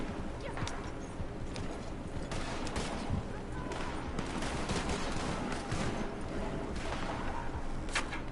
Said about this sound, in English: Sounds like I can hear shooting from here.